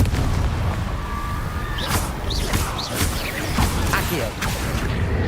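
Confringo blasting spell explosions in the Hogwarts Legacy video game, a run of loud booming blasts with sharp bursts at intervals over a dense rumbling game soundscape.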